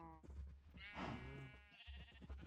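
A sheep in Minecraft bleats with a short, wavering call, heard close and clear over a low background hum, followed by a fainter second bleat.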